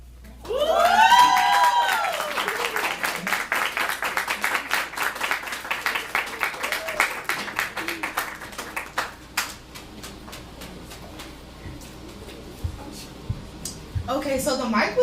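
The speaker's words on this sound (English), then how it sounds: "Give Janelle another round of applause." Audience applause and cheering for poet Janelle at a poetry event, a loud burst of clapping and whoops that swells early then fades, with voices talking over it.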